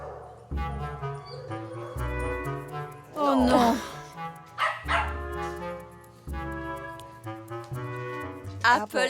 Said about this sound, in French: Tanya, j'ai vu les chiens sans surveillance toute la journée.